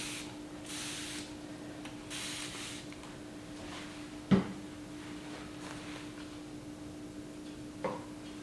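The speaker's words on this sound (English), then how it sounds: "Go ahead and spray this side." Chalk paint sprays onto the side of a wooden desk in repeated soft hissing bursts of about a second each, over a steady background hum, with a couple of sharp clicks between passes.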